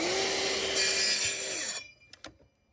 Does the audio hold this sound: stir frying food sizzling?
no